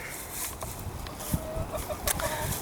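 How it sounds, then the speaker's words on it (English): Hens clucking in an open-run hen house on a farm, with scattered soft calls and a brief louder cluck over a steady rustling background; no voices. "Let's go check the hen house."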